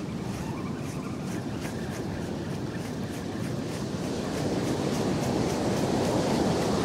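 Heavy waves break along Kilcunda beach in a constant, full roar of surf. Gusts of wind add to the roar, and the rumble swells slightly toward the end.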